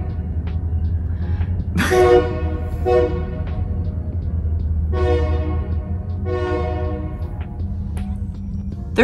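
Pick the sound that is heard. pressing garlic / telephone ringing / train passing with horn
train passing with horn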